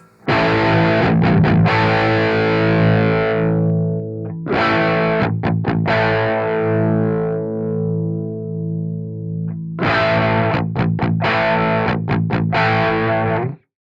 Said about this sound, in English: a lot of these doom tones are based around an amp which is like right on that edge of starting to clip